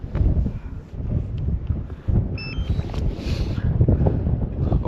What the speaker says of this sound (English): honestly, it's really windy.